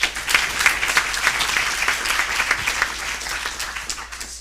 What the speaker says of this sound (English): Please give a round of applause to Thomas